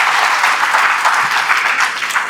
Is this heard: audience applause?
yes